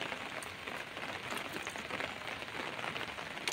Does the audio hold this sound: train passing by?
no